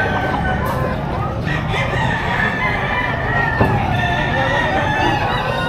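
A rooster bred for sale crows repeatedly at a poultry market in Padre Garcia, Batangas, with other fowl clucking through steady busy background noise.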